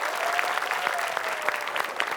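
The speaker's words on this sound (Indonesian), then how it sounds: "Buat penonton yang ada di rumah, boleh kasih tepuk tangannya." Studio audience applauding at a television game show, a dense, steady patter of many hands clapping at moderate loudness throughout, with no talk over it.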